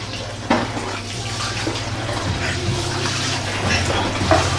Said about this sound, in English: We're washing the rice.